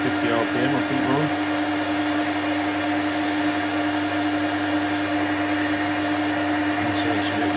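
A lathe cuts EN24 chrome moly steel at 750 RPM with a 1mm depth of cut, giving a steady loud motor whine and tonal hum with a constant cutting drone that runs throughout, close and unbroken.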